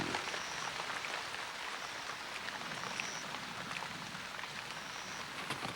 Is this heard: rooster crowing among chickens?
no